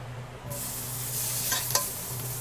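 Garlic sautéing in hot oil in a pan, a steady loud sizzle that bursts in partway through and holds, with a couple of brief stirring clicks, no voices.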